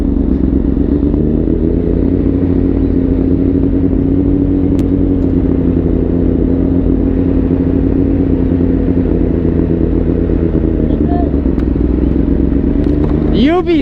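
A Honda CBR1000RR SP motorcycle on the highway, its engine droning steadily at cruising speed under heavy wind rush.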